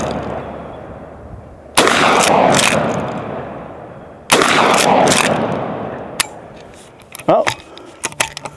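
Pistol shots fired while testing a budget red dot sight mounted on the gun, two sharp loud cracks about two and a half seconds apart, each with a long ringing decay outdoors, followed by fainter clicks and handling noises.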